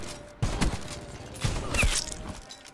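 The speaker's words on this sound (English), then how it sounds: "The Argus is probably one of my favorite shotguns that I've probably ever used" The Argus shotgun in Black Ops 4 fires a few sharp, booming blasts spaced about a second apart, close and punchy, with quieter game noise between the shots.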